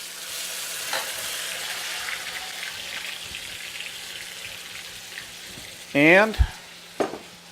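Onions fry in a pan with a steady, close sizzle and occasional stirring scrapes, then a louder clatter near the end. A voice says a brief word.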